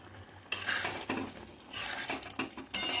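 Cooked chickpea dal being stirred and mixed in a pot, giving bursts of scraping and clinking from a spoon against the metal, close and moderately loud, with short pauses between strokes.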